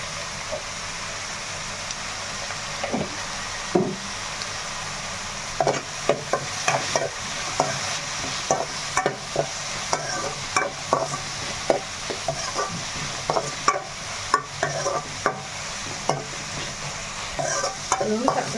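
Onion, tomato and green chillies fry in a pan under a continuous sizzle, while a spoon stirs and scrapes in repeated sharp knocks throughout, close and without talk.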